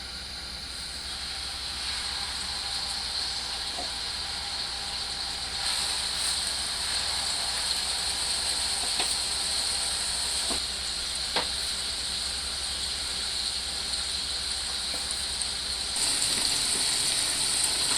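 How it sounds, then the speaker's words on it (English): Pork chops brown in a hot pan, a steady, loud sizzling hiss that holds evenly throughout, with a few faint pops and ticks. "Now that the pan is hot, we're going to put in the pork chops and allow them to brown for 5 minutes on each side."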